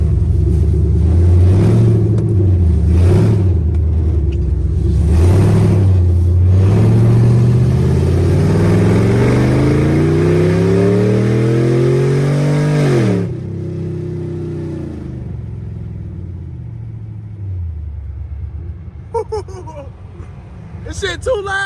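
Loud aftermarket exhaust on a Dodge Hellcat, deep rumbling revs rising and falling in several pulls then settling to a lower idle, heard up close under excited talking and shouting.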